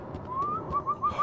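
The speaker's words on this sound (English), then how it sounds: "Why'd you whistle for it" A person whistles a short series of rising notes, one longer glide followed by three or four quick chirps, fairly quiet over a low background hum.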